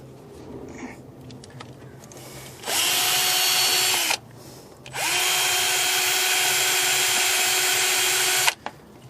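A power drill whirs in two long bursts, spinning up sharply, running steadily at high pitch, then cutting out, with quiet pauses between.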